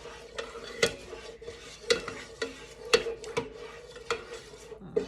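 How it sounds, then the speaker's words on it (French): A mixture is stirred by hand in a bowl while sugar goes in, with periodic sharp clinks of a utensil against the container spaced roughly a second apart over a soft scraping bed, close and fairly quiet. "On mélange comme il faut."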